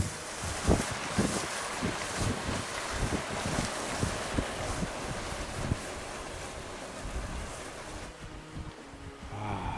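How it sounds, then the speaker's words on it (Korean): Strong wind buffets the microphone on the frozen trail up to Biryong waterfall in winter, a steady loud rush with gusty low thumps that drops away near the end. "이제 바람이 제대로 부네"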